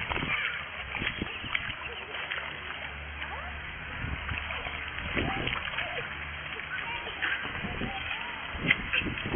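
A person swimming in open water outdoors, with irregular splashes and sloshing strokes at moderate distance, while people talk over it.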